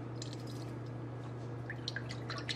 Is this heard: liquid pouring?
yes